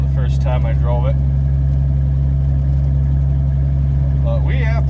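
A 1982 Ford F150 pickup truck's engine idles with a steady, loud low rumble throughout, while someone talks over it at the start and again near the end.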